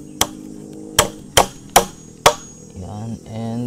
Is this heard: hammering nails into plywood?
yes